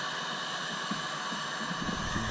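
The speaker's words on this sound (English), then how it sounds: "I leave it on the low setting on the heat gun." A heat gun on its low setting blows continuously during a Yamaha TTR125L dirt bike graphics installation, a steady close-up airy hiss with a faint motor hum that rises slightly near the end.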